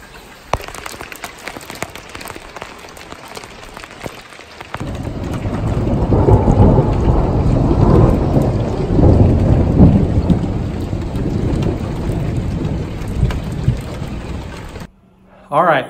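Heavy rain pours steadily during a thunderstorm, with deep rolling thunder building from about five seconds in and sustaining loud, dense noise before cutting off near the end.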